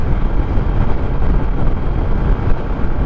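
Loud, buffeting wind roars against the microphone in a continuous low rush while riding a Honda Click scooter, masking everything else.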